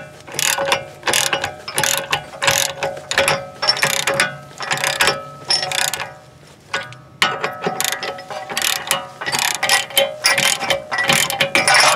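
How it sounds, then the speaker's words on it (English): A hand ratchet cranks down a homemade bearing press built from plumbing supplies on a BMW rear wheel, with rapid clicking pawl strokes in steady back-and-forth bursts, close and loud. "Alright, I have the spacers in, so now I'm just going to crank them down,"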